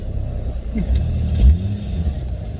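A Lexus GS300 fitted with a 2JZ-GTE engine and R154 gearbox drives along with a loud, low engine rumble that swells briefly as it pulls, heard from inside the car.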